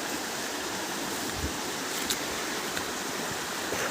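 A small natural stream runs outdoors with a steady, even rush of flowing water that fills the whole stretch at a moderate level, with no voices.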